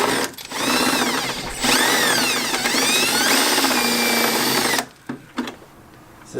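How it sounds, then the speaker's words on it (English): A power drill bores through the hood of a Lexus SC300 turbo for hood pin installation, a loud steady whine with rising and falling pitch sweeps running close for several seconds before stopping. "All you gotta do is just put the drill right through here."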